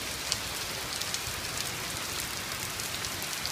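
Steady rain pouring down outdoors, a dense, even hiss of drops striking surfaces with scattered close patters, continuous and fairly loud throughout.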